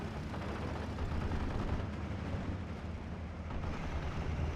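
Artillery fire from M1 howitzers in Steel Division: Normandy 44, a continuous dense rumble of distant booms and battle noise with no distinct single shots standing out, steady and moderately loud throughout.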